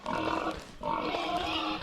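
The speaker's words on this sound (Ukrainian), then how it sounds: "О, тихо, тихо, свині, не повибігайте." Pigs grunting and snorting in the farm-horror video game Peasant Nightmare, two continuous bursts of close, rough grunting separated by a brief break.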